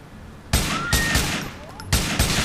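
Rapid gunfire in Grand Theft Auto 4, during a gang attack in a housing project, cracks out as several loud, close bursts of shots against a low game background.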